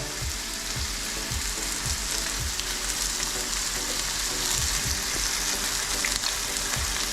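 Onions fry with a dense, steady sizzle in a hot pan while cooking for Pidiyum Kozhiyum, loud and continuous, with soft scraping thumps of stirring scattered throughout.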